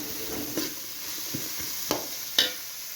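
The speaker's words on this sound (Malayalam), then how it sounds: "കുറച്ച് കറിവേപ്പില, മുളക് എല്ലാം കൂടി നമുക്ക് ഇളക്കാം." Beef stirred in a pan with curry leaves and chili for beef varattiyathu, a soft steady sizzle under a few sharp spoon scrapes and taps against the pan, close and fairly quiet.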